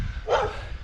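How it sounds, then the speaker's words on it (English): A single bark from a dog, close and fairly loud, with an unfriendly tone. It rises over a steady outdoor background rumble and decays quickly. "How are they supposed to hear me when you're barking?"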